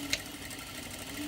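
A sewing machine stitches a half-inch seam in a steady, quiet whir, running continuously and alone at close range.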